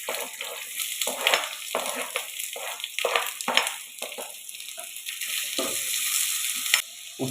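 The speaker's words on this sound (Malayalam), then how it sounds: "നമ്മുടെ സവാള ഇട്ട് കൊടുക്കുക." Sliced onions sizzle and crackle steadily in hot coconut oil in a pan, a close, continuous frying hiss with soft stirring scrapes and no talking.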